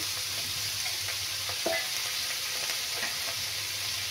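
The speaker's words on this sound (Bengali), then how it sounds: "এখন আমি পেঁয়াজটা ভেজে নেব। আর আদা দিয়ে দেব।" Onion with ginger frying in butter in a pan, a constant close sizzle with a few faint utensil clinks and scrapes, no talking.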